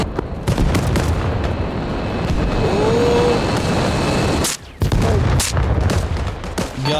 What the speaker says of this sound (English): Listen, missile, cover!